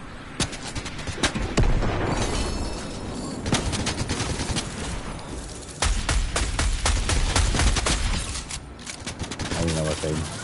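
Repeated sharp blasts and booming explosions from rocket launcher fire in Fortnite, loud irregular bursts rattling in clusters over several seconds, with players talking between them.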